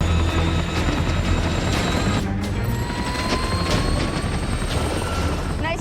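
Helicopter rotor and engine drone fills a film action scene, steady and fairly loud throughout with a brief dip midway and some mechanical clatter, no speech.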